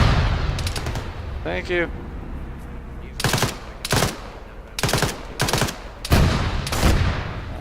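Video game gunfire rattles out in several sharp automatic bursts, close and loud, with a player talking briefly between them.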